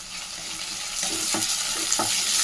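Onion, garlic, cumin and dried chillies fry in hot oil, giving a steady sizzle with a few scraping stirs of a spoon in the pan.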